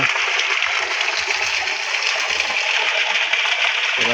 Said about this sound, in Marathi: तिथे गोमुखातून पाणी येतं